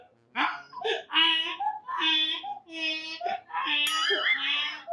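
A donkey braying sound effect repeats a loud, raspy cycle of wheezing high and low tones for several seconds.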